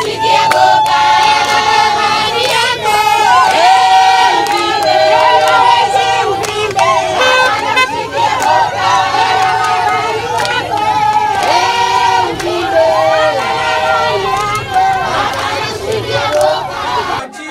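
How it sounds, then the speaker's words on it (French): A large, enthusiastic village crowd in Lualaba, Congo, welcomes a visiting delegation with loud sustained shouting, chanting and ululating voices, dense and close throughout. "une foule enthousiasmée qui attendait impatiemment cette opportunité d'apprentissage les a accueillis avec faste"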